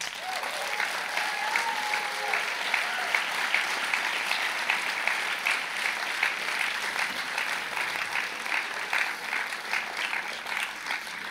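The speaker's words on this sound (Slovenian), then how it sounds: "lepo prosim en velik aplavz za naše" Sustained, loud applause from a crowd honoring graduates at a 2023 secondary-school diploma ceremony, steady clapping filling the whole stretch without breaks.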